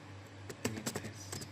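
A few soft taps on a computer keyboard while typing a short test message, scattered light clicks over a faint background hum.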